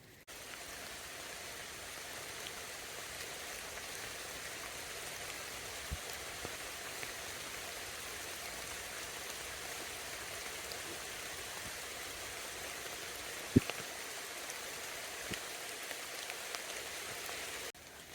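Light rain patters steadily on a wooded hiking trail in a soft, even hiss, with a few sharper drips landing close by, and no voices over the quiet wash.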